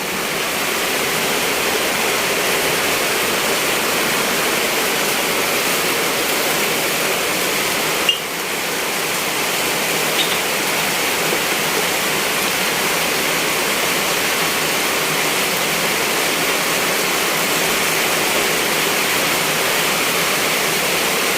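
Floodwater from a full drainage canal rushing into houses during heavy nighttime rain, a dense, steady roar of flowing water that stays loud and unbroken, with one brief knock partway through and no talking.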